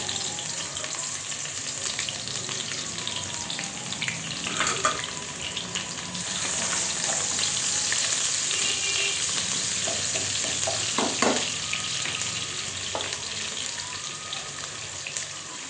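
Onions fry in hot oil for green moong dal khichdi, a steady close sizzle and hiss broken by occasional stirring clinks and scrapes, with no talking.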